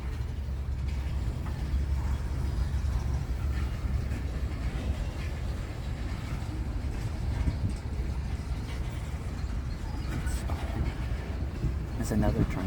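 A freight train carrying tank cars rolls past with a continuous low rumble and rattling that holds steady throughout, while people talk faintly over it.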